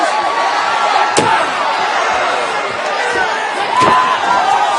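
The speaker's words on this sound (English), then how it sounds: "And Orton slamming Bray Wyatt's head." A wrestler's head is slammed in an arena, giving sharp impacts over a loud, constant roaring crowd in a WWE No Mercy match between Randy Orton and Bray Wyatt.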